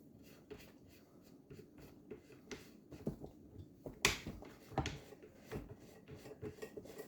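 Small sharp clicks as a fake muzzle device is screwed onto a Rock Island Armory VR-80 shotgun, an irregular run of close, quiet ticks and scrapes over a hushed background.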